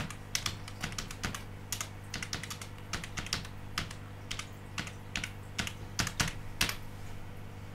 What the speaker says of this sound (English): Typing left-handed is a fucking nightmare too